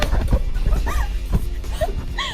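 A dog whimpers and yips in short, rising cries mixed with a few barks, close by amid busy indoor noise.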